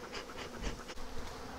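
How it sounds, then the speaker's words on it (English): A swarm of bees stirred up by smoke buzzes around a swarm trap on the ground, a dense, close, fluttering hum of many wings with no voices. "Oh, we got bees everywhere"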